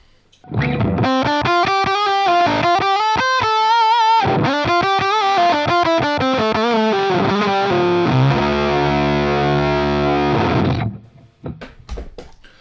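Electric guitar played through a Behringer SF300 Super Fuzz pedal with an octave setting, heard as a loud, buzzy distorted run of picked notes and sustained chords, ending in a ringing held chord that cuts off, with no talking.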